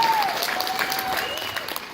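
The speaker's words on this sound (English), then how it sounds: "let's get a round of applause for fantastic caller" Applause from a crowd at a convention panel, steady and fairly loud for about two seconds with a faint tone gliding through it.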